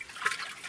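Harvested garlic is rinsed under running water: a short, close splash and trickle lasting under a second, with no talk.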